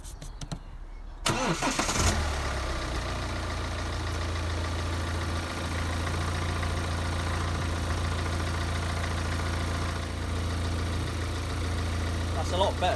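A BMW E90 with the N47D20C diesel engine cranks and fires after an oil change, then settles into a steady, even idle with a low hum and faint diesel clatter, close and continuous throughout.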